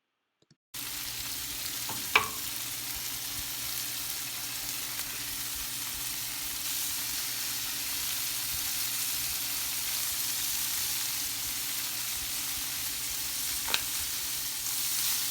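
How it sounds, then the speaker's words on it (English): Cubes of tofu seasoned with garlic powder, onion powder and black pepper frying in hot oil with red chili flakes, a steady, even sizzle that runs throughout with a couple of faint clicks. "Now toss in the tofu into the hot oil."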